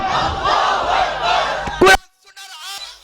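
A large crowd at an outdoor Islamic religious rally roars a loud unified takbir response, a sustained mass shout that swells and then cuts off abruptly, followed by a lone speaker's voice.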